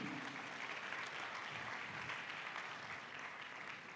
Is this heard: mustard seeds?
no